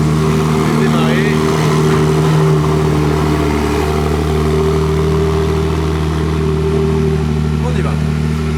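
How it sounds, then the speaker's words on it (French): Ferrari 296 GTS engine running just after start-up, a steady close mechanical drone with strong low tones, heard beneath continuous talking. "le moteur est démarré"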